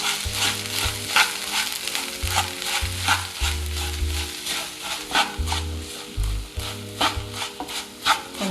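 Sugar and wheat rava being stirred in a frying pan for rava kesari, with a steady sizzle and repeated scraping strokes of a spoon against the pan, accompanied by low tonal background music.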